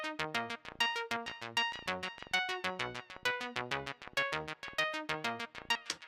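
An arpeggiated synth patch from Nexus plays rapid, evenly pulsed notes in a bright cascading pattern, steady and moderately quiet, with no voice over it.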